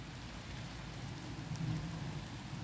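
Steady rain falls around the William Wallace birthplace monument at Elderslie, Scotland, a continuous close hiss of drops on surfaces with a low rumble underneath and no voices.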